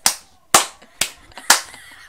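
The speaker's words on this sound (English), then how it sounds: "I started clapping like this." Four sharp hand claps spaced about half a second apart, each a crisp close slap with a short ringing decay, no voices in between.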